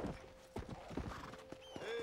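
Horse hooves clip-clop in the video game Red Dead Redemption, a series of uneven hoof strikes at a moderate pace, fairly faint under a thin tonal game backdrop, with a brief whinny-like tone near the end.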